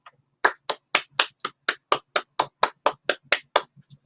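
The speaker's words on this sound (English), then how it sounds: "Let's give our partners and organizer a virtual round of applause" A virtual round of applause at an online software industry conference: a steady run of about fourteen evenly spaced sharp claps, close and crisp, with nobody speaking.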